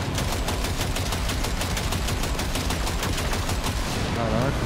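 Rapid automatic gunfire rattles in Cyberpunk 2077, a dense, loud burst of fast repeated shots lasting several seconds before it cuts off.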